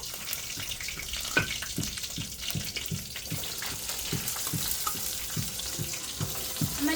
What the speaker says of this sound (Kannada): ಈರುಳ್ಳಿ ಒಂದು ಸ್ವಲ್ಪ ಕಲರ್ ಚೇಂಜ್ ಆಗಬೇಕು ಅಲ್ಲಿವರೆಗೂ ಒಂದು ಸ್ವಲ್ಪ ಫ್ರೈ ಮಾಡ್ಕೋಬೇಕು